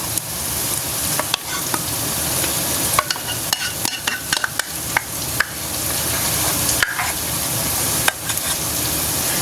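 Cooked tamarind paste is stirred into gongura pickle in a hot pan, a spoon scraping and clacking against the metal in irregular strokes over a steady close sizzle of frying.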